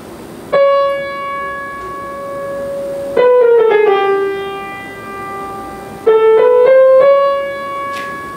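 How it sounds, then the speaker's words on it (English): Solo unaccompanied flute plays the opening line of Debussy's Prelude to the Afternoon of a Faun: three sustained, gently bending phrases, clear and close, with no accompaniment. "Debussy's Prelude to the Afternoon of the Fawn, which starts with a flute solo playing a line that sounds like this"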